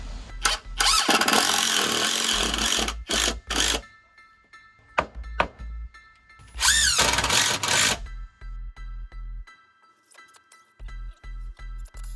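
Cordless drill driving screws through a wedged block into concrete while fitting a basement bulkhead door, in several loud bursts of whirring with pauses and lighter clunks between them, and no talking.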